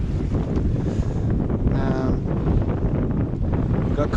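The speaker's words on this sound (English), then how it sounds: "Got kind of steep waves, really, short, sharp chop." A sailboat pounds through short, steep chop off England's south coast, with loud, constant wind buffeting the microphone and water rushing past the hull.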